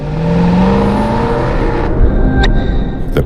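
Mercedes SLS AMG with its front-mid AMG 6.3-liter V8 revs hard, a loud, close engine roar that climbs in pitch, then settles into a rumbling drone with brief sharp noises near the end.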